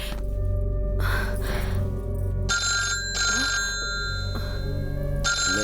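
A mobile phone ringtone rings repeatedly at close range in a home, its electronic tones coming in bursts over a steady low hum, with brief breathy sounds between rings.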